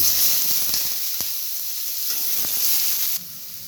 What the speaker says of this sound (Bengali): এবার আমি এর মধ্যে কুচনো পেঁয়াজ নিয়েছি, কুচনো পেঁয়াজ আমি দিয়ে দিচ্ছি